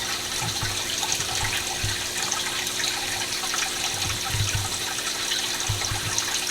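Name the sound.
water trickling through 3D printed hydroponic lettuce tower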